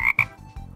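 A toy frog gives two quick croaks, the first sharp and bright, followed by a lower, softer rasp, close and alone with no talking.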